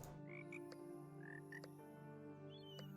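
Frogs croak several times in a city builder video game, short repeated calls over a steady layer of ambient game music and hum, fairly close and clear with no talking.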